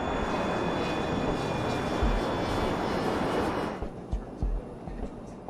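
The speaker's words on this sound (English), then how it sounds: "The crew is flying an Avro 146 regional jet." Avro 146 four-engine regional jet in flight, a steady broadband engine roar filling the first three and a half seconds before dropping away into quieter, uneven thumps.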